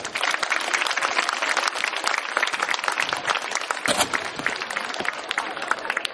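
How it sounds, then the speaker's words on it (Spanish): An audience claps loudly for a speaker at a peace-day event, dense sustained applause throughout with no pauses. "Fuertes los aplausos para él."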